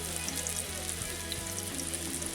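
Batter-coated bombil (Bombay duck) fish laid one by one onto a hot tava over medium heat for a crispy masala fry, giving a steady, close, crackling sizzle with no talking.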